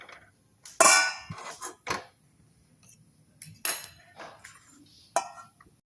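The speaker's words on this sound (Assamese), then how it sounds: "কেৰাহীটো পাতি লওঁ।" A metal kadai wok set down on a gas stove in an Assamese home kitchen, giving several sharp clanks and clinks spaced over a few seconds, close and fairly loud against a quiet background.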